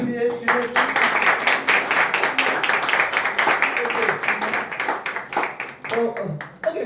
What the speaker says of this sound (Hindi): हर एक आदमी, हर एक लड़का ताली बजा सकते हैं इन लोगों के लिए